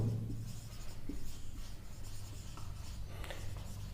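Geometry notes written on a board or paper during a maths lesson: continuous scratchy marking strokes with a few sharper taps, close and moderately loud, with no voices.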